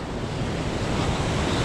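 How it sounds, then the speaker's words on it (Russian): The turbulent Urubamba River rushes past in a dense, loud, unbroken roar of churning water, close and steady from start to end, with wind buffeting the microphone and no voices. "Вот она, река Урубамба."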